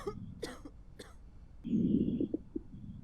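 A patient in a zombie quarantine video game gives a single close cough burst with a rough, wheezy tail, following brief throat sounds and a few faint breaths.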